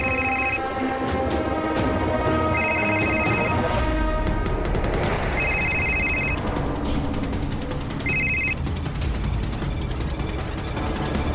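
A mobile phone rings after a call is placed, its ringtone sounding in four short repeated bursts against a tense musical background, with no talking.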